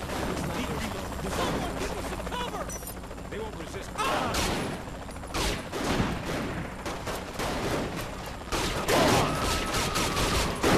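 Gunfire in the video game Saints Row: The Third, dense bursts of shots and booming blasts layered over a constant game soundscape, loud and continuous, with someone talking over the action.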